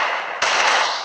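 A single gunshot goes off in a shooting video game, landing as a headshot: one sharp, loud burst cutting through a steady wash of game noise.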